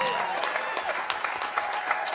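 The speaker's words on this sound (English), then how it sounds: "Give yourself a round of applause." Sustained applause from an audience at a live arts event on the homeless crisis, a steady wash of many hands clapping throughout with a faint undertone of voices.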